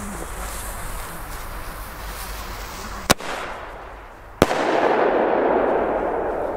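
A purple Weco Big Flashing Thunder firework bomb tube goes off outdoors with two sharp, loud bangs a little over a second apart, each set against steady crackling and hiss, with a louder rush of crackle after the second blast.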